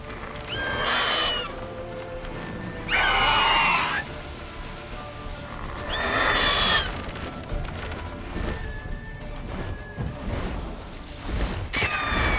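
Roach, the horse in The Witcher 3, neighs loudly several times in shrill whinnies over a steady background of galloping hooves and rustling movement through trees and crops.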